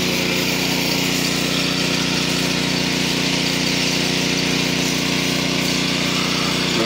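Steady engine of a combined sprayer and irrigation pump machine running continuously at a constant idle-like drone with a whirring pump tone, loud and close, no talk.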